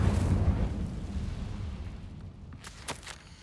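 Incendio fire spell cast in Hogwarts Legacy, a loud whooshing burst of flame that fades over a few seconds, followed by a few brief bright crackles, with no talking.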